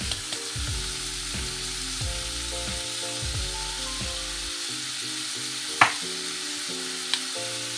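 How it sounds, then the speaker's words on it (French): Salted, peppered ground meat, seasoned with garlic powder and basil, fries in a pan for a meat-and-potato tourte. Scraping stirs clatter over a soft sizzle, then stop, leaving a quieter hiss with one sharp knock. No voices. "Je mélange bien et je vais laisser cuire"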